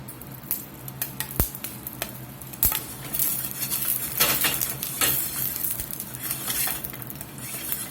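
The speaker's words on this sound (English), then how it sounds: "while those jalapenos are sizzling" Jalapenos roasting in olive oil in a skillet, a steady close sizzle with occasional stirring clinks and scrapes of utensil against the pan, no talking.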